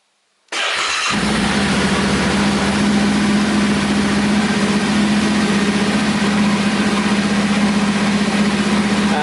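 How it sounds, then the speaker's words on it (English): A Yamaha Tenere 700 motorcycle engine fires up suddenly after a moment of silence and settles into a loud, steady, close idle. "So now you need to start the bike"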